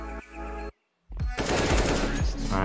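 Counter-Strike gunfire rattles in rapid automatic bursts, loud and close, broken by a brief silence before more shots.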